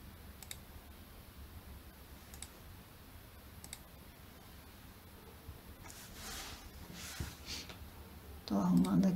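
A few faint, sparse computer mouse clicks, spaced seconds apart, while drafting a layout in AutoCAD, sitting low under quiet room noise with talking nearby.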